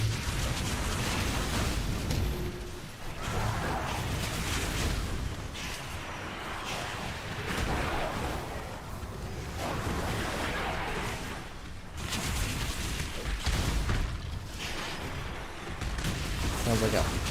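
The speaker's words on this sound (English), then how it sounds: "Sounds like a freaking cannon." Repeated cannon-like popping blasts from Path of Exile gameplay, with a Chieftain build firing loud booming explosions in dense bursts over a rumbling background, with talk mixed in.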